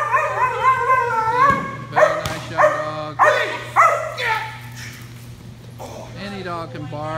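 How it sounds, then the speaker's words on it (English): A German Shepherd protection dog barks and yips in loud, separate bursts, with whining, howl-like tones between barks and a low steady hum beneath. "Dog can bark and throw a fit."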